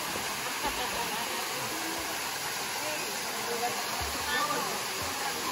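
Daranak Falls in Tanay, Rizal, gives off a constant broadband roar of falling water, steady and enveloping throughout, with no break in the rush.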